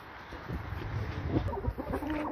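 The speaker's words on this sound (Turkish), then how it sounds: "Şöyle horozlarımızı tavuklarımıza göstereyim." Chickens and roosters cluck softly nearby at a coop in Belgium, a few short, irregular clucks over faint outdoor background noise.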